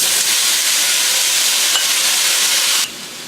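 Chicken and cauliflower stir-frying in a hot wok, a loud, bright continuous sizzle with a brief scrape partway through, close up, then dropping sharply to a quieter hiss near the end.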